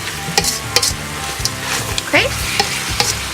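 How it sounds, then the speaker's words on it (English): Food sizzles loudly in a pot with crackling pops and clinks of a utensil stirring, while a voice briefly speaks over it. "you guys see that it sizzles and it's cooking, it's boiling"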